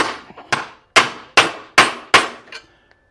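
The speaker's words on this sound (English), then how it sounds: "I'm gonna give it a couple of taps just to straighten it out some" A hammer tapping a front shock mount stud on a 1964-66 Ford Thunderbird, six sharp metallic knocks in an even rhythm, close and loud, with quiet in between and no talk.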